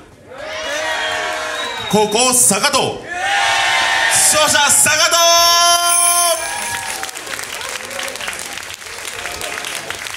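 A crowd at a beatbox battle cheers, whoops and applauds loudly in two big surges during the vote, while an announcer speaks over a microphone.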